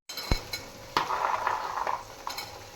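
Broccoli, potato and peas being sautéed in a pan, with a metal spoon clinking and scraping against the pan in sharp, irregular taps over a faint background hiss.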